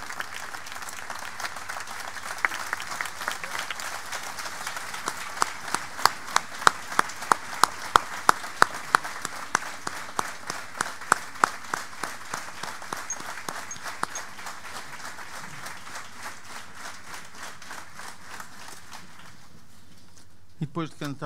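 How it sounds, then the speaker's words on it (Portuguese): An audience at an outdoor concert with a municipal brass band in Antas, Esposende, gives a long round of applause. The clapping is dense and steady, swells with sharper individual claps, then thins out and fades near the end. "Um aplauso muito especial para a nossa banda."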